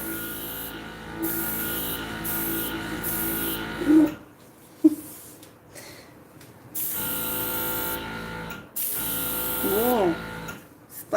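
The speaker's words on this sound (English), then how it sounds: "now let's see how this airbrush is going to go" An airbrush sprays alcohol ink in short bursts, a thin hissing buzz that starts and stops repeatedly at close range, with a voice talking between the bursts.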